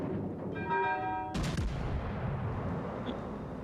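A single heavy naval gun salvo from a warship in a video game booms loudly after a short tonal chime, then rolls off into a long rumbling tail over steady background noise.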